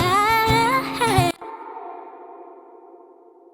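A sung vocal line cuts off and its echo carries on, with a quarter-note delay feeding into reverb that leaves a smooth, fading tail after the voice stops.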